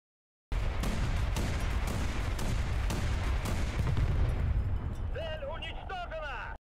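High-explosive tank shell firing in War Thunder, a continuous heavy roar of cannon blasts and explosions running throughout, loud and dense, ending in whistling tones.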